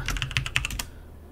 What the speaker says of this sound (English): I type reboot over there